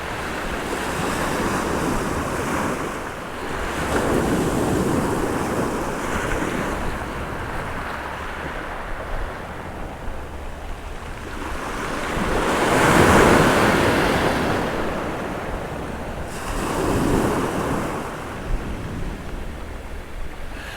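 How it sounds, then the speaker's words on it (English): Wind gusting at about 10 knots on an East Coast UK fishing beach, loud buffeting rushes rising and falling over a steady roar of surf, with no voices. "Wind's got up to about 10 knots now."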